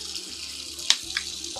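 Water runs from a tap into a sink in a steady, close hiss. A couple of brief splashes and clinks sound over the continuous flow.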